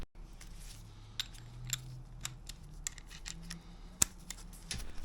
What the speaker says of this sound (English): So first is a 12mm socket for this to turn these.